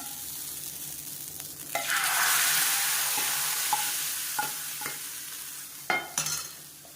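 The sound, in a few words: tempering poured into kootu, sizzling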